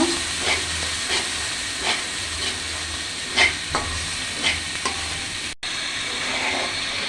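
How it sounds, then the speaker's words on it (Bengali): Spice paste stir-fried in a pan for a river crab curry, a loud continuous sizzle with regular scraping strokes of a spatula and a brief cut near the end. "এবার এই মশলাটা আরেকটু কষিয়ে নেব।"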